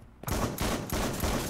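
Gunfire from the video game Surviv.io comes as a close, loud burst of rapid repeated shots that runs without a break.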